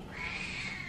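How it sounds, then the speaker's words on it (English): A house cat meows at dinner time, giving one drawn-out, whiny cry that holds steady and fairly close, with no talking over it. "that's my cat, by the way, not a baby being hurt."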